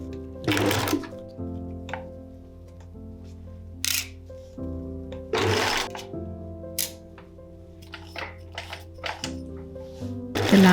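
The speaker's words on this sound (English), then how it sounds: "I sewed over all the seams from the boning channels on the ribbon again" Sewing machine stitching over ribbon boning channel seams on a dress, running in several short bursts with quiet pauses between, a low steady hum beneath the stitching, close and fairly loud.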